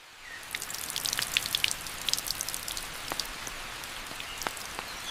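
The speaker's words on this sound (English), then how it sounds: "Rain changes everything." Steady rain falls on a forest around a bird-of-paradise nest, a dense patter of drops with scattered sharper splashes on leaves, fairly close and continuous throughout, with no voices.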